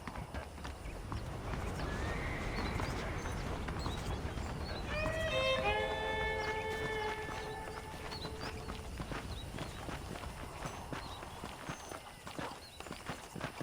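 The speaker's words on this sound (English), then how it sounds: "let's see if you can still ride a horse." A horse in the video game Red Dead Redemption clip-clops steadily on the ground and lets out one clear whinny midway, close and fairly loud over ambient outdoor game sound, with no talking.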